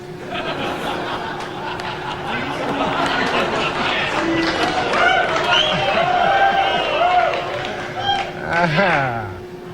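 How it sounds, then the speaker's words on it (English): Studio audience reacting to a Norm Macdonald joke, a mixed murmur of chuckles, groans and scattered laughter rising and falling, with talking voices mixed in. "The crowd is torn."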